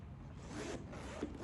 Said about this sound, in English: It just has like a nice zipper up here.